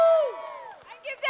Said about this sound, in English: So this is the last cheer of the day from a team.